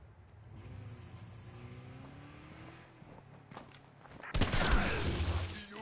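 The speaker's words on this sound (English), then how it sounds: "Someone's in a car." A car engine revs in an online video game, first a low rising drone, then a louder burst of engine roar with crackling noise near the end.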